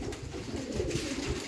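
A golden pigeon of the Sadhna breed cooing up close, a steady low throaty burble that runs the whole short stretch without pause, alone with no voices over it.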